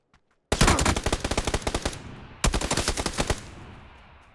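Automatic gunfire in PUBG on Xbox One rips out in two long rapid bursts, the first about a second and a half, the second shorter after a brief pause, loud and close with no talk over it.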